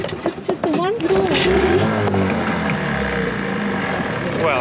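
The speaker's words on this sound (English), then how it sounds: "I've dialed the engine in so well. It's just the one pull." Outboard engine of a sailing boat on a squid fishing trip in Sydney catching after a single pull of the starter cord, a brief rattle then a rising, steady motor drone with people talking over it.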